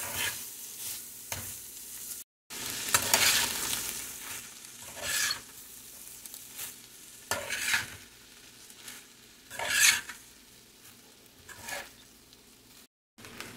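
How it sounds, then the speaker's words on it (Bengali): Cooked rice is stirred and mixed in a sizzling frying pan: soft frying crackle runs underneath while repeated scraping, tossing strokes rise and fall, close up and without speech. "এবারে হালকা নাড়াচাড়া করবো, অল্প অল্প করে ভাত মেশাতে থাকবো"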